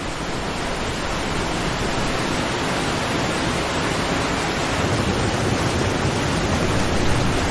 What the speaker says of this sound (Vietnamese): Khối lượng nước khổng lồ của hồ Constant đổ xuống cùng với một âm thanh chói tai.